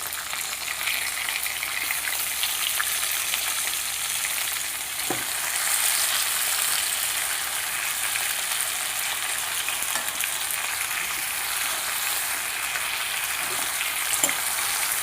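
Stuffed brinjals sizzle and fry steadily in oil in a pan for gutti vankaya curry, a continuous bright crackle with occasional soft stirring knocks and no voices.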